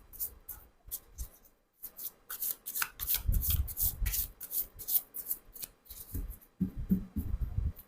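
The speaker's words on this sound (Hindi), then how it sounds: "ये भी अच्छे से शफल नहीं हुआ है" A deck of cards shuffled by hand in close, crisp riffling bursts, repeated several times with short pauses between, and no voices.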